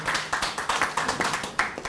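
Audience at a Gangneung election campaign event applauding a candidate, a dense patter of many hands clapping in quick, uneven bursts, moderately close and steady throughout, with no voices over it.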